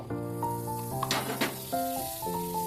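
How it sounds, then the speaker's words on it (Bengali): Butter sizzles on a hot tawa, a soft steady hiss with brief crackling flare-ups, heard under sustained background music. "তখন আমি তাওয়ার মধ্যে আবার একটু বাটার দিয়ে দেবো"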